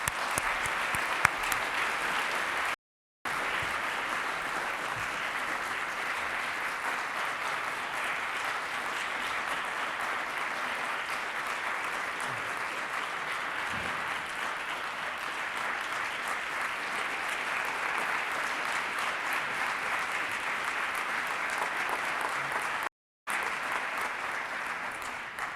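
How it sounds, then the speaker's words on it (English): A large audience at an award ceremony during a World Press Freedom Day plenary delivers a long, steady round of applause, dense and unbroken for over twenty seconds apart from two brief dropouts. "Let's have a big round of applause."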